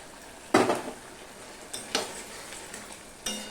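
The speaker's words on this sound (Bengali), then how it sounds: "থোড়টা যে আমি নুন দিয়ে চটকে রেখে দিয়েছিলাম, এটা আমি আরেকটু চটকে নেব" Banana stem mashed with salt in a pot makes a few separate squishing, scraping knocks against the metal, spaced apart and close by, with no talking.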